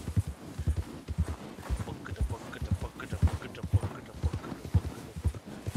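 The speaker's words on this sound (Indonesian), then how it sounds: "kudanya larinya lumayan kencang ya" Horse galloping in the Red Dead Redemption 2 video game, a fast, steady rhythm of loud hoofbeats that continues throughout, with game ambience and faint talk underneath.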